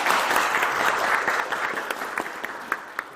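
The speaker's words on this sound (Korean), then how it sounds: "방문해주신 이재명 예비 후보님께 힘찬 박수" Audience applause at a renewable energy town hall meeting during a presidential campaign, a full burst of clapping that thins out toward the end into scattered individual claps.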